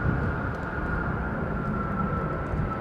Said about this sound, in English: did you hear her come off the power there?